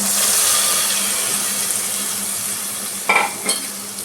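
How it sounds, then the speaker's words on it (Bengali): Chickpea paste with tempering is poured into a frying pan of sautéed cauliflower, giving a steady broadband sizzle that carries through with a couple of short clattering stir or pour bursts near the end. "এবার আমি যে চিকপিস বা কাবলি ছোলার যে পেস্টটা করেছিলাম তাতে তড়কা দিয়ে, সেইটা আমি ঢেলে দিচ্ছি।"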